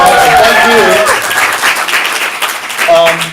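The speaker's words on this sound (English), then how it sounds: "Give them a round of applause." Audience applause at a stand-up comedy show, a steady wash of clapping from the crowd mixed with voices and cheering, fairly loud and sustained before tapering off.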